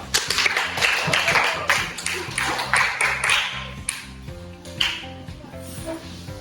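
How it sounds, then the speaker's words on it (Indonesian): Students clapping in a classroom, a close burst of dense hand claps that thins into scattered taps and fades, with a voice faintly beneath. "kita berikan aplaus dulu"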